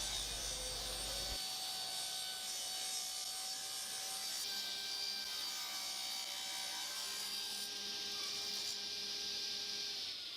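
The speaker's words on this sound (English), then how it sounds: "And cutting the miter all the way around on the top." A saw cuts a miter all the way around a wooden top in a beginner woodworking workshop, giving a steady, continuous high-pitched whine and rasp that runs for the whole stretch without breaks.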